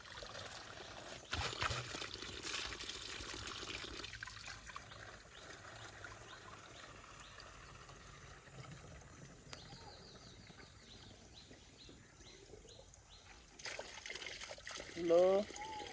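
Spring water brought by pipe to a roadside spot trickles steadily and quietly, a soft continuous flow with voices talking over it.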